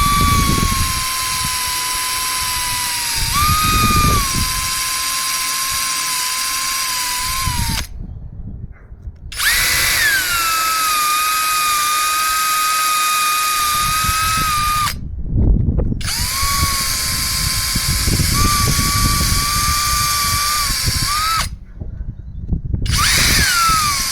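A power drill bores holes for wall-mounted model railway locomotive storage, running in three long whining bursts of about eight seconds each, separated by brief silences, loud and close with shifting motor pitch.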